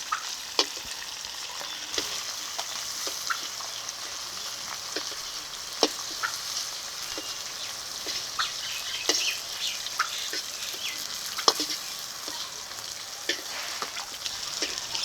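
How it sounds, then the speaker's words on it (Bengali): Chopped onions fry in hot oil in a pan, a steady close sizzle peppered with crackles and pops. Occasional stirring scrapes are mixed in and nobody speaks. "এই তেলে দিয়েছি পেঁয়াজ কুচি পেঁয়াজটাকে এখন ভালো করে ভেজে নেব"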